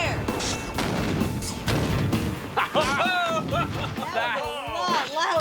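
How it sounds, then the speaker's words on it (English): A blast from 10 pounds of ANFO opens with a heavy, loud boom and rumbling roar that rolls on for a couple of seconds, followed by excited voices shouting and talking close by. "Will 10 pounds of low-velocity ANFO give Buster more of a heave-ho?"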